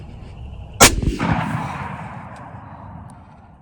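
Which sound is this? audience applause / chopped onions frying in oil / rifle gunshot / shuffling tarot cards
rifle gunshot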